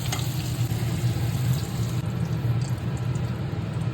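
Potatoes fry in oil with a dense, steady crackling sizzle, close and continuous, with no voices.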